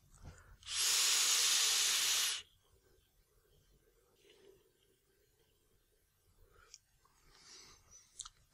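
A strong burst of vapour is pulled through a Flawless Tugboat V3 rebuildable atomizer with a double-helix top cap and its side airflow fully open, giving one loud airy hiss of about a second and a half, then quiet soft handling noises.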